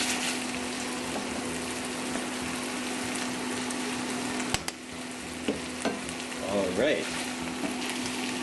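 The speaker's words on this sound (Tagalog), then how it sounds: "Kahaluin lang natin ito uli." Pork and green beans stir-fried in a pan, a continuous close sizzle with scraping stirs throughout and a sharp clack midway; someone speaks briefly near the end.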